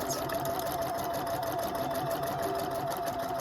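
A Husqvarna Viking #1+ sewing machine runs a steady, continuous stitch with an even mechanical hum and a tonal whine throughout, close and fairly quiet, with no talking.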